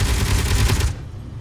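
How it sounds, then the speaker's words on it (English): Gatling guns on a Space Engineers fighter ship firing a rapid, continuous rattling stream at close range for about a second before cutting off abruptly. "So if we push 6, that'll enable the Gatling guns."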